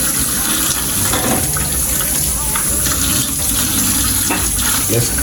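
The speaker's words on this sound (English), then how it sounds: "let's clean these vegetables, starting from the spring onions" Spring onions are rinsed under a running kitchen tap, giving a loud, steady gush of water that continues unbroken throughout, with faint handling splashes and no talking.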